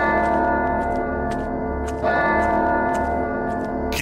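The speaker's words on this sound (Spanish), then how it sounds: "yo voy a seguir el sonido de las campanas." Church bells toll steadily in the MADiSON horror video game, a sustained, reverberant ringing with regular strikes layered over a continuous hum, heard alone without talk.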